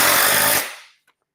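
A power drill driving a screw into wood framing, one loud close whir that cuts off abruptly and rings down into silence.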